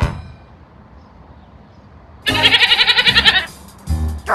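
A cartoon goat bleats loudly in the Ed, Edd n Eddy GameCube video game, a rapid wavering burst of about a second, followed by a brief thud and a shorter sound near the end.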